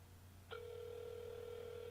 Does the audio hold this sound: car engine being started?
no